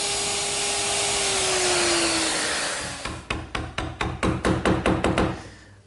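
A router fitted with a 1/2-inch bit cutting mortises in wood: a loud motor whine that drops in pitch under load, then a run of sharp, evenly spaced knocking cuts before it winds down.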